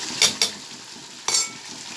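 A yogurt and poppy seed paste sautés in a pan, a soft steady sizzle broken by three sharp scraping stirs of a utensil against the pan, close and without speech.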